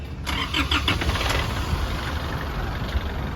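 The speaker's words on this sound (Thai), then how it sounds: "ไปสตาร์ทเครื่องเฉยๆนี้ สตาร์ทเครื่อง" A car engine cranks and catches after a diagnostic scan tool has cleared its fault codes, then settles into a steady, close idle with a brief burst of higher-pitched noise near the start.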